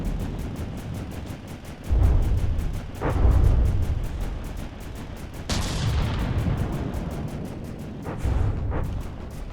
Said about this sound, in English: We're hitting the guy with pretty much every weapon system that I have. Torpedoes, missiles, mines, railguns.